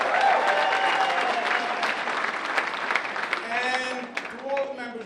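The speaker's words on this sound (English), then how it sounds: "Let's give him a round of applause." Audience at a Democratic Rural Conference applauding for several seconds, dense clapping that slowly thins out near the end, with a voice speaking over it.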